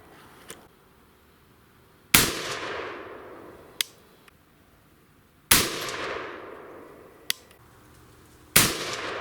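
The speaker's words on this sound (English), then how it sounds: "I'm going to switch the scope over to the 308 and take 2 shots with that" Three loud, sharp .308 rifle shots ring out about three seconds apart, each one followed by a long decaying echo. Softer metallic clicks from the rifle action come in between the shots.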